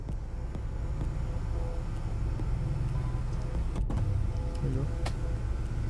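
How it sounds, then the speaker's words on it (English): The panoramic sunroof motor of a 2020 Chery Tiggo 8 Luxury runs as the roof opens, a steady electric hum inside the car with a person talking briefly. "Yeah, you have this panoramic sunroof."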